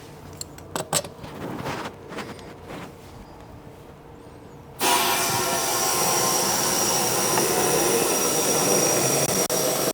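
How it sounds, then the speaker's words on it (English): A Monster Valve Tap2 MV-TAP2 airs up a tire from 0 PSI: after a few faint clicks and taps, a sudden loud, steady rush of air starts midway and holds strongly to the end. "Even I'm still blown away by how fast these monster valves can air up the tire."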